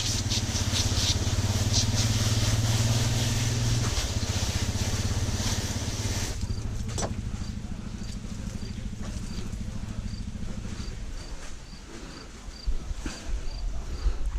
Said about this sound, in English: My dad's in the background on the side-by-side, driving around the property.